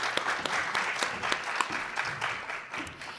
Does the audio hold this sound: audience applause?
yes